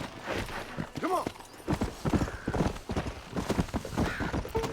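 Horse hooves clip-clop and a neigh sound in the Red Dead Redemption video game, with a stallion's hoofbeats irregular and close alongside a brief whinny, plus some background game noise.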